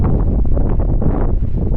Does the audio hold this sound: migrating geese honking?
no